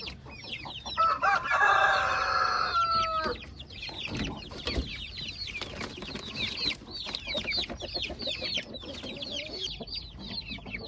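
Brooding hens in a large coop, with a loud clucking, crowing rooster call up close at the start, followed by steady layered chicken clucks and chatter through the rest.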